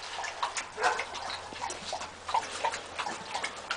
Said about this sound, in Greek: Πόσαβετς, τα πιο άγρια σκυλιά της Σερβίας.